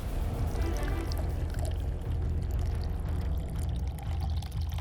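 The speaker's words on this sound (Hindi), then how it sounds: "ये आप आपके घर में जो 500 ml की बोतल जिसमें फ्लोर क्लीनर आता है, उसी बोतल के अंदर ये शैशे पोर कीजिए।" A sachet of floor cleaner is poured into a 500 ml plastic bottle, a continuous close gurgling, rushing pour lasting several seconds.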